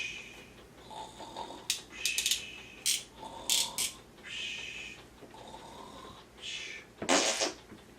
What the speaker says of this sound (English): You farted in your sleep.